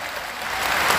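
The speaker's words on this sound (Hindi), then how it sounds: "जोरदार ताली बजा करके सब लोग स्वागत करो" Audience clapping to welcome guests at a mass wedding ceremony for brides, a steady dense patter of many hands held at an even level throughout.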